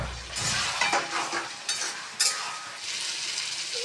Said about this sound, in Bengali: ভালো করে কষিয়ে নিয়েছি আমি,